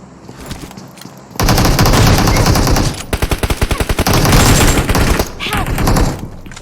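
Rapid automatic gunfire in PUBG on the Erangel map, loud bursts of fast shots with a distinct evenly spaced volley, over game ambience and faint talk.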